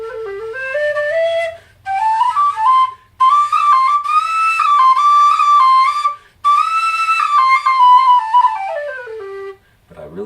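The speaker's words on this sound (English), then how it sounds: "this G plays like a low whistle, really like a low whistle, and it's that wide bore" A Chieftain Thunderbird low whistle in G with a wide bore plays a clear, breathy melody in several phrases with brief pauses, stepping through low and middle notes, close and alone.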